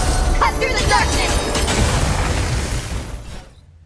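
A dense, rumbling series of booming explosions in the video game Punishing: Gray Raven, with bursts and crashes, loud and continuous before fading out near the end.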